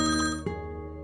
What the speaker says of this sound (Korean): 낯선 번호로 전화가 걸려.